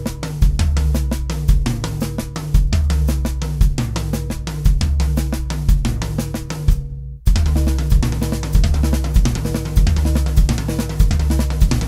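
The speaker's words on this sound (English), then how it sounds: "this reorchestration is basically playing the right hand on the floor tom and then just moving up to the second tom" A drum triplet lick with the right hand moving between the floor tom and the second tom, heard as loud, close, rapid repeated strikes that break briefly midway and then resume.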